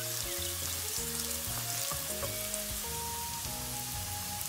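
Onions and okra frying in a pan with a steady, fairly quiet sizzle and crackle, close by, with no talking.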